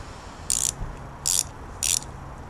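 A ratchet works a 9/16 bolt on car motor mounts in three short, evenly spaced bursts of rapid clicking, close and distinct against a low background hum.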